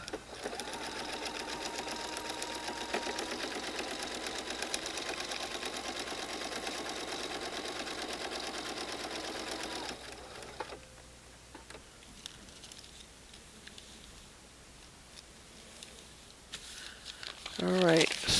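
A sewing machine stitches quilt block pieces for a twisted quilt block, running steadily and loudly for about ten seconds, then stopping; quieter handling and crinkling of fabric follow.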